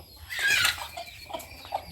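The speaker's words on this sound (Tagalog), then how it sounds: "yung mga manok natin" Chickens clucking nearby, a loud squawk followed by a few softer clucks, fairly close and with no talking.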